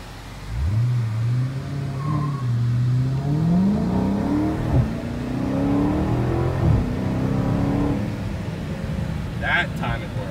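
A 2018 Dodge Charger Hellcat launches at full throttle, its engine rising from a rumbling idle into a loud, climbing roar through shifts. Close and powerful, with a brief chirp near the end.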